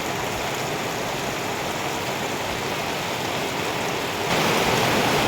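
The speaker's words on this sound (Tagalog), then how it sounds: "Ang lakas ho ng ulan." Heavy rain pours down steadily in a dense, continuous hiss, growing a bit louder toward the end, with no voices.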